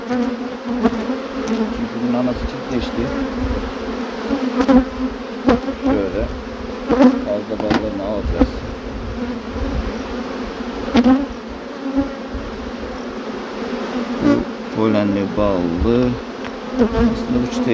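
A swarm of honey bees buzzes steadily and loudly throughout, a dense continuous drone with shifting pitches as individual bees fly close past.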